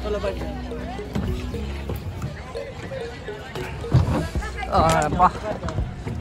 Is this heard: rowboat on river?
yes